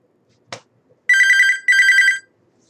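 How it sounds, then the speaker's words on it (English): A telephone rings indoors in two loud, close bursts of trilling electronic bell after a single sharp click, with no talk over it. "Blasted phone call."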